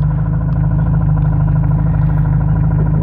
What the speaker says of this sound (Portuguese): Vejam se conseguem ouvir um barulho crac, crac, crac, crac, crac, crac, bem no fundo.